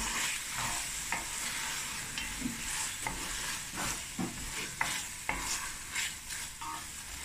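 Sugar bean bredie with a squeeze of honey being stirred in a pot on an island stove, a soft sizzle beneath repeated scraping strokes of the spoon at an unhurried rhythm, close and fairly quiet.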